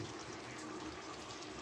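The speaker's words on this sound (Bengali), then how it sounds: "এবার আমি অল্প করে জল দিয়ে দেবো।" Water poured into a pot of spicy Bihari-style chicken curry, a soft, continuous gushing pour at low volume with no break.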